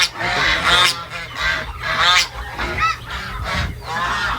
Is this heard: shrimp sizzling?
no